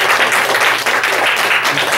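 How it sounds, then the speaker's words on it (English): Loud, dense audience clapping at an advocacy event on human trafficking, a brief close wash of applause from a crowd without pauses. "let's give a round of applause for the group of people."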